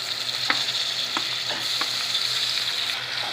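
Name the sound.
frying tomatoes, ginger and garlic in a pan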